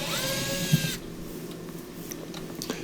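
A power screwdriver backs screws out of a Miele dishwasher during a noisy-pump repair, giving a close, whirring motor whine for about a second that then stops, leaving quiet room sound with a few small clicks.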